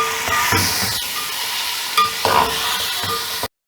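Chickpeas and chopped chili frying in a pan for vegetable chana pulao, a steady close sizzle with a few stirring scrapes, then an abrupt cutoff.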